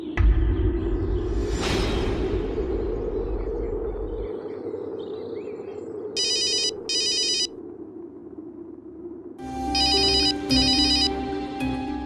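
A telephone rings in a Hindi TV drama scene: two short electronic ringtone bursts sound clearly, followed by a longer, louder repeating ring, after a fading whoosh and low musical swell.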